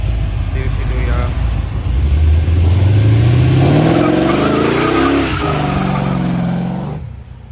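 A 1988 Chevrolet Monte Carlo SS V8 revs and accelerates hard, engine pitch sweeping upward through a gear with a tire chirp, loud and close before cutting off near the end.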